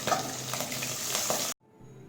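Steady sizzling of fish frying in hot oil on low heat for about a second and a half, then it cuts off to near quiet.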